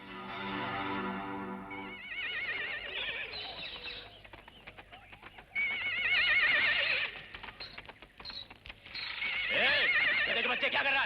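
A horse neighs loudly in a long whinny, followed by clip-clop hoof sounds, stirring effects and further whinnies, in a Bollywood action film scene.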